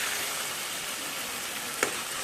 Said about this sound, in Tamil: வெங்காயம், தக்காளி, பூண்டு, கருவேப்பிலை எல்லாமே பாருங்கள் நல்லா வதங்கிடுச்சு பாருங்கள்